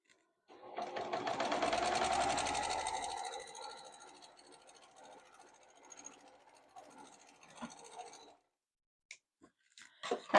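A sewing machine stitches down a triangle of fabric scraps for a rainbow quilt square, a loud steady whirring run for several seconds that eases off into quieter intermittent stitching and handling, then brief taps near the end.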